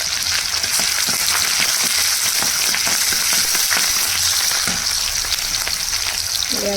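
Onion, green chili and taro frying in hot oil in a pan, a loud, steady crackling sizzle that runs continuously and close up, with no talking over it.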